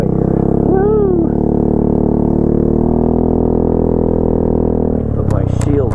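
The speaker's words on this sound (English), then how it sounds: "let's take it back on down the hill, and I'll show you a little bit more about the scooter ride" A 2014 Yamaha Zuma 125 scooter rolls downhill, its engine droning loud and steady with a constant wind-buffeted hum, a brief rising whine early on and some rustling near the end.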